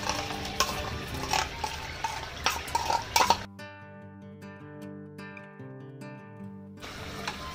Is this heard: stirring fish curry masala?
yes